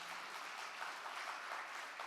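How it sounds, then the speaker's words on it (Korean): Faint, distant applause from the audience at an AI summit award ceremony, an even sustained patter of many hands with no distinct individual claps. "다시 한번 큰 박수로 한번 축하해 주시면 감사하겠습니다."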